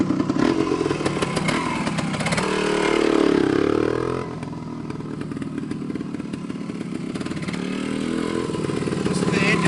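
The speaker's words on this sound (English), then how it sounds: "Listen to the engine on this thing." A 1974 Yamaha DT250 two-stroke motorcycle engine running close by, a buzzy raspy idle swelling into a louder rev for a couple of seconds before dropping back to a steady rattly putter.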